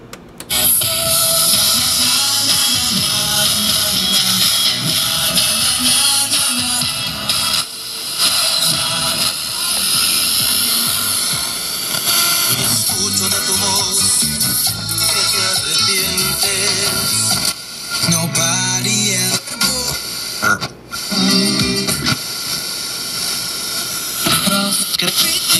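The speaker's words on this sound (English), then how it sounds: "let me switch it over to the radio briefly, show you that the radio does work" Sanyo MX960K Big Ben Super Woofer boombox tuned to the radio, playing a loud, dense, continuous broadcast that fills the whole stretch with no talk over it.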